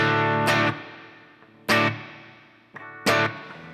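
Three loud electric guitar chords, each struck and left ringing with a long, spacious cathedral-style reverb tail that slowly fades before the next strum.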